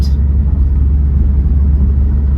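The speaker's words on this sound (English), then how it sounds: "Taking her on a test drive and she is still working great." A Subaru WRX, recently fixed for a boost leak and faulty wideband O2 sensor, cruises on a test drive, giving a steady, loud low engine and road rumble from inside the car with no clear revving.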